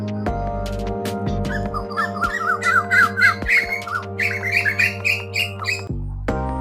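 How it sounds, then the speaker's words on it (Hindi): Birds chirping in a mango orchard in Khanpur tehsil, a steady stream of bright squawks and whistled calls over a constant droning hum, with no talk. "ये परिंदे ज़बरदस्त माशाल्लाह चहचहाते हुए, बहुत ही ज़बरदस्त आवाज़ें हैं परिंदों की।"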